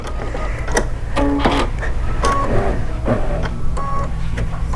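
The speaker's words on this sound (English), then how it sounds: "It's sewing the little black piece of the beak on each one of the flamingos right now." A Kimberbell embroidery machine stitches the small black beak pieces on a row of flamingo designs, giving a busy, loud mechanical chatter of rapid needle strikes, clicks and whirring motor pulses, close by and uninterrupted.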